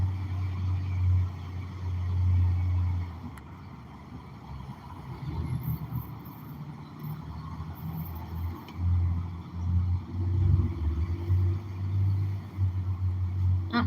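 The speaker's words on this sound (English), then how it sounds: "There's more traffic going the other way." Road traffic in a downtown street, with steady low engine rumble from cars rolling past and a few louder swells as vehicles go by nearby, no voices.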